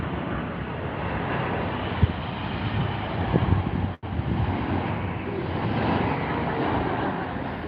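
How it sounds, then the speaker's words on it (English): An Air Peace Boeing 777 landing at Heathrow, its engines giving a loud, sustained broadband roar with a brief dropout midway, no talking. "Here it is then, Air Peace in the 777."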